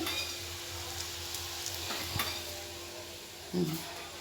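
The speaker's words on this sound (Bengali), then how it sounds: "এই যে ডিমের বড়া ভাজছে এটা ডিমের বড়া ভাজছে" Egg fritters frying in a pan, a steady close sizzle with faint stirring scrapes and a brief louder clatter near the end, no voices.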